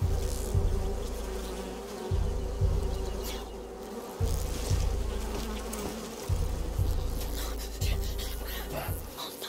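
Bees buzzing in the video game A Plague Tale: Requiem, a close, droning swarm hum with a pulsing rhythm that repeats every second or two, with faint background game sounds.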